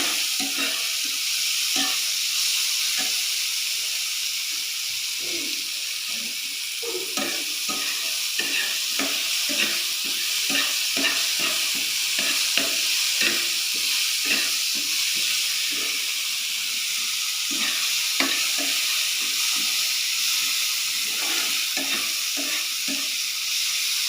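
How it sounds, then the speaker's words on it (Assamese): Continuous loud sizzling of food frying in a pan before pasta is added, punctuated by frequent scraping clicks of a spatula stirring throughout. "অলপ সময় ভাজিব লাগিব এইখিনি।"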